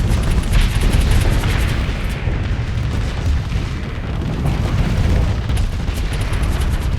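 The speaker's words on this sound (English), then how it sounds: "His missiles are going crazy." Missiles launching and detonating in the space combat game Starsector, a dense, continuous barrage of booms and bursts layered over a low rumble, loud and steady throughout with no talking.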